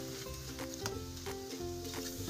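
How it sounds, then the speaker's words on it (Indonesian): Soft, crackling sizzle of shallots frying in oil, with faint stirring sounds over a steady background hum. "kita bisa dengar bedanya ketika menggoreng"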